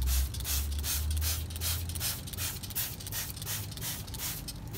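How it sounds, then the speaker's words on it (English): Water sprays in rhythmic bursts to rinse de-rust gel off a rusted vehicle chassis, a close hissing wash pulsing roughly twice a second over a low steady hum. "Then rinse it off."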